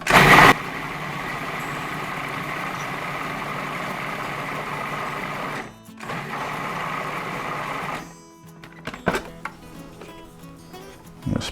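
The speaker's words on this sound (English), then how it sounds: "I'm going to put it in my food processor, and I'm just going to process this until it's like nothing but juice" A food processor pulverizes jalapeno peppers into juice, its motor droning loud and steady, dropping out briefly, then whirring again before cutting off, followed by a few scattered clunks.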